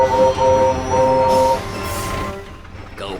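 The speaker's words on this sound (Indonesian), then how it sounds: "Menyingkir dari jalanku, kereta gerbong mau lewat." Cartoon train wagons rolling past in a Thomas & Friends episode, a rumbling rail passage layered with a sustained whistle-like tone that fades into a noisy hiss, then a brief chirp near the end.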